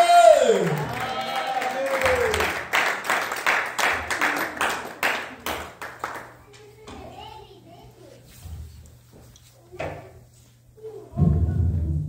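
A church congregation greets an arriving apostle with clapping and cheering in rhythmic bursts of applause and excited voices. The noise fades into scattered thumps and murmurs before a final loud swell.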